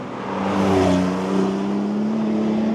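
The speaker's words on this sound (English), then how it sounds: "So I'm in third now and I'm going to downshift to second." Porsche 911 992 GTS with a manual gearbox downshifting from third to second, its engine rising in a close, loud automatic throttle blip and then holding a steady drone, with no speech.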